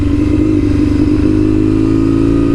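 Classic motorcycle engine running on a back road, a loud steady rumbling drone close up throughout, no voices.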